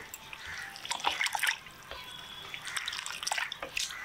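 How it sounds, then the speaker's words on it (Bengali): Pieces of raw chicken are rinsed under running water in a kitchen, with splashing, dripping and trickling water heard in uneven bursts at moderate volume. "মাংসগুলো পিস করা হয়ে গেছে, এবার ধুয়ে নেব"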